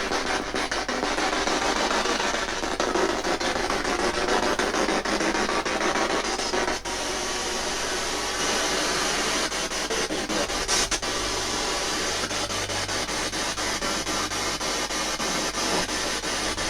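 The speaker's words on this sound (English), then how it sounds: "I have a spirit box. You can speak through it." A paranormal spirit box sweeps across radio stations and produces a continuous harsh hiss of static with rapid clicks and brief tonal fragments. It stays steady and fairly loud for the whole stretch, with no one speaking.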